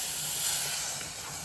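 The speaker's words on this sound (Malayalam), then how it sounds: "കുറച്ച് തിളച്ച വെള്ളം ഒഴിക്കുക." Boiling water is poured into a hot pan of ginger-spiced chickpea curry and gives a brief, close hiss of steam that swells and then eases off, with no voices.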